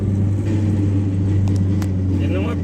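A Skoda Laura, bought used, pulls hard under acceleration, its engine a loud, steady low drone filling the cabin with a constant hum throughout.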